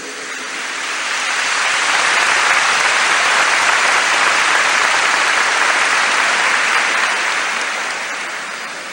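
A church congregation claps for the Lord, a dense, steady wash of applause that swells in, holds loud and even for several seconds, then tapers slightly at the end, with no talk over it.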